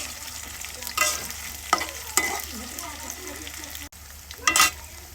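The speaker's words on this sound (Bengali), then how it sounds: "এই তো পেঁয়াজটা ভেজে নিতেছি ভালোভাবে।" Onions and potatoes fry in oil in a pan, a soft continuous sizzle broken by several sharp scraping stirs of a spoon, close and alone without talk.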